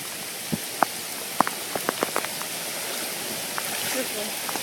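Fast floodwater rushing through a flooded backyard, a steady broadband wash with scattered splashes and drips on top, heard outdoors at moderate level.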